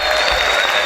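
A church congregation claps and shouts in praise during a worship service, a short, loud, dense wash of clapping and crowd voices.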